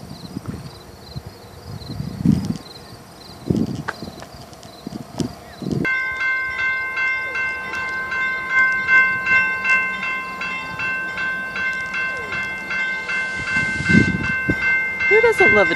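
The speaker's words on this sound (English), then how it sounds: "Who doesn't love a train?" A train crosses the Cape Cod railroad bridge with a steady rumble of wheels and cars. Strong sustained horn-like tones join about a third of the way in, insects chirp in the background, and people talk near the start.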